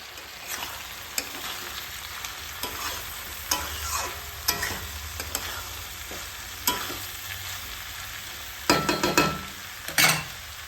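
Fried rice with prawns sizzles quietly in a wok while a utensil scrapes and stirs, with irregular scraping strokes growing louder and busier toward the end.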